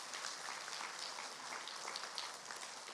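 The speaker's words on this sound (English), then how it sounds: "Let's give them a round of applause." Audience applause at an elementary school awards ceremony, a steady, dense patter of clapping hands that holds evenly throughout at a moderate, slightly distant level with no voices on top.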